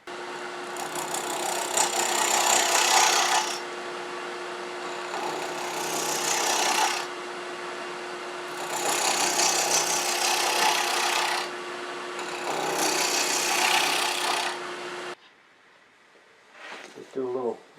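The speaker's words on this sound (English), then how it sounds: "Just do a little sanding on that off camera" Bursts of dry wooden rasping in four long passes, each a few seconds, as wood is sanded on a spinning lathe, with a steady hum beneath and brief quiet sounds at the end.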